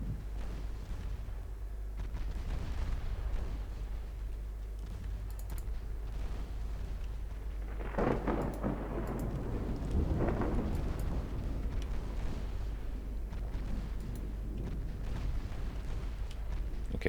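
5-inch naval guns firing in Ultimate Admiral Dreadnoughts, producing a low continuous rumble with a few heavier boom-like swells midway, faint and distant under soft clicking.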